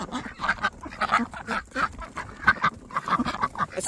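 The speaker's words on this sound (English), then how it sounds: "That's a drake there. That's a duck that I'd consider killing for eating." A drake duck on a rural property in Tasman, New Zealand, quacks repeatedly in short, raspy bursts, loud and close, in an uneven rhythm with brief gaps between calls.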